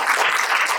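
An audience at a book talk during the Sharjah Book Fair applauds, a brief burst of dense clapping from a crowd, close and loud.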